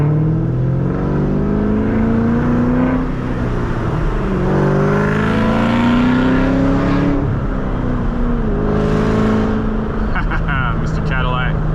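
A 2003 Ford Mustang Cobra engine pulls hard through rising, sweeping revs while driving, loud and close, with voices talking over the engine throughout.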